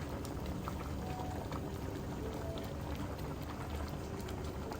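Sambar bubbling in a pot on the stove, a steady low simmering rumble with scattered soft pops throughout, close and continuous with no talking.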